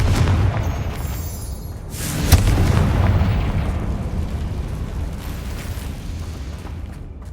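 A Confringo fire spell goes off in Hogwarts Legacy, a loud booming blast that builds from about two seconds and leaves a long rumbling decay over dense low game ambience, with no talking.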